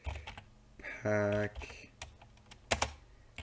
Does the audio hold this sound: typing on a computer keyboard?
yes